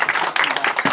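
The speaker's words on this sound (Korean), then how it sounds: "박수로 맞이해주시기 바랍니다." Audience applause greeting an invited guest at an architects' association event during an arts festival, a burst of brisk, close clapping from many hands in short surges.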